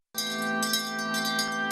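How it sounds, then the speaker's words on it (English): A school bell rings at a Nigerian school as pupils return, a clear metallic ringing that sustains steadily with rapid pulsing strikes for under two seconds, close and alone with no voices. "The sound of the school bell signals the return of pupils to school"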